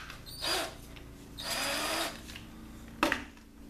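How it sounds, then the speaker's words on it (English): A handheld power drill spins a whittled wood-shim paint stirrer, giving two short whirring bursts and then a sharp brief rev, all fairly faint and close with no talking. "Put it in my drill. Now I got a paint stirrer."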